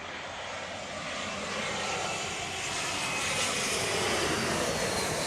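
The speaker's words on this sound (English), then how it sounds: "This is American 2504 from Moline, Airbus A319." An American Airlines Airbus A319 jet arriving at Chicago O'Hare during storm conditions gives a steady, broad engine roar that swells slightly, distant to mid-range and alone.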